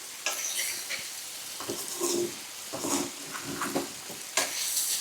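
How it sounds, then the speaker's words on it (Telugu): Tomatoes with salt and chili powder being stirred in a sizzling pan for a paneer curry, with irregular scraping spoon strokes over a frying hiss, up close with no voices. "మనం తగినంత మనకు ఉప్పు తగినంత కారం వేసుకొని ఒక్కసారి ఇట్లా మంచిగా కలపాలి"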